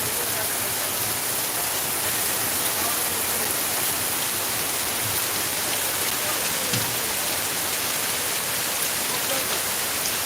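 A heavy night downpour in Sylhet drums on surfaces in a loud, unbroken rush, with scattered nearer drips standing out against the constant roar; no one speaks.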